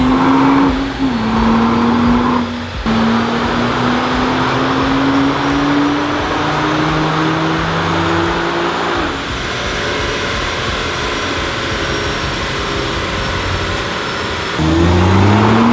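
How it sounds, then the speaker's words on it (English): A Nissan GT-R fitted with a Kline Innovation exhaust drones loudly and close, its engine note rising steadily through a long rev with a brief lift partway and a surge again at the end. "I'll give you guys a little sneak peek of the Kline Innovation exhaust in 1 second"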